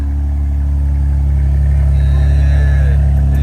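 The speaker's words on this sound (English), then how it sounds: "we got a brand new AWE exhaust on this bad boy" BMW M4 Competition 2024 fitted with an AWE exhaust, heard as a loud, steady deep engine rumble at idle with a faint higher whine building later, close by without clear revs.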